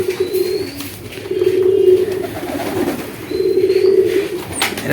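Fancy-breed pigeons coo in low, throaty bursts, three rounded calls close by with short pauses between them.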